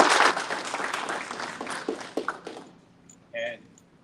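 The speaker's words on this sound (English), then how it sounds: "So if you would, just give her a round of applause." An audience at a general membership meeting gives a round of applause that is strongest at first, then thins into scattered claps and fades out, followed by a brief voice.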